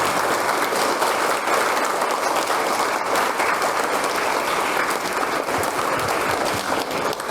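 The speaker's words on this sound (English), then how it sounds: "put your hands together with a loud applause for all our teachers" Steady, loud applause from a school audience of children and staff honouring their teachers at a Children's Day celebration, dense clapping filling the whole stretch without pause.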